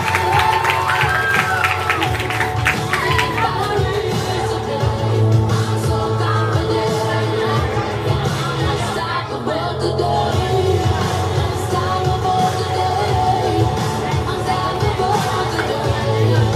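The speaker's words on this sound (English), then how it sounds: "I think they deserve a loftier round of applause." Applause and cheering from a crowd at St. John's Anglican School's 2023 graduation ceremony, greeting a graduate: dense, sustained clapping with scattered yells that runs steadily throughout, mixed with a tonal music bed.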